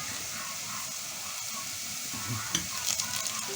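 Onion frying with salt in a pan sizzles and hisses steadily up close, with soft stirring sounds and a few brief utensil clinks near the end, no voices.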